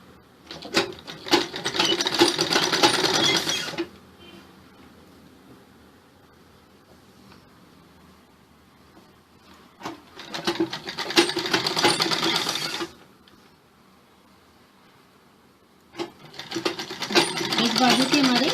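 A sewing machine stitches the sleeve of a frock in three loud, rapid whirring bursts of several seconds each, separated by quieter pauses.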